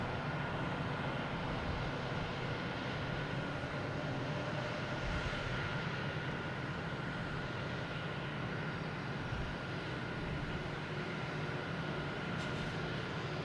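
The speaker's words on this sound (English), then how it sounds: "next to take off is a JetBlue, an A220, heading to Buffalo, flight 715" A JetBlue Airbus A220 takes off at Boston Logan Airport with a steady, broad engine roar that holds at a constant level.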